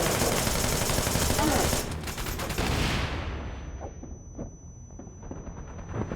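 Fire grenades explode in the game Wanted: Dead as a dense roar of blasts and rapid gunfire, which cuts off after about three seconds into scattered crackles and faint thuds.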